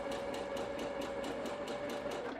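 A sewing machine stitches a sleeve seam on a peasant top, giving quiet, rapid, evenly spaced mechanical ticks over a faint steady motor whine.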